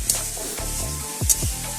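Onion and garlic fry together over a home stove, a loud, close sizzle with repeated stirring scrapes and a couple of sharp utensil knocks, no speech.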